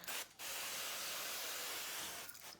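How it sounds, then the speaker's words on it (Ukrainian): Cooking oil sprayed over mini shashlik skewers before baking makes a brief short hiss, then one long continuous spray of about two seconds, close and fairly quiet. "Зараз ще його зверху так трошечки попшикаємо е, олійкою"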